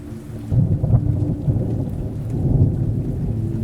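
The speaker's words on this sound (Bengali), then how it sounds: "এমন সময় ঝমঝম করে বৃষ্টিটা নেমে গেল।" Heavy rain pours down steadily with low rumbling thunder rolling through, a dense, continuous storm wash with swells in loudness and no voices.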